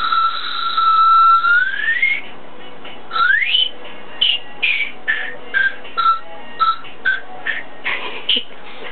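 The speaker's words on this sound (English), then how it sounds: "it's got a hole and you just blow on it" A long shrill whistle with a rising slide, then a rapid series of short chirpy whistle toots of varying pitch, blown on an Airhead whistle pop candy.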